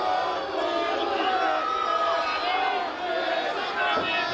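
Wrestling crowd at an FMLutte show at the Festival Vieux Saint-Jean cheering for RDQuick, a loud sustained roar with rising shouted chants and whoops, close and continuous throughout.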